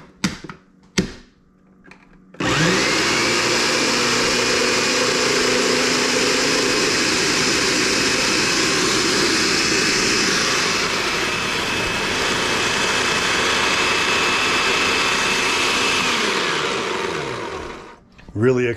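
A food processor whirs steadily while blending homemade mayonnaise from oil and garlic powder, a loud continuous motor hum that starts after a few brief knocks and runs for about fifteen seconds before winding down.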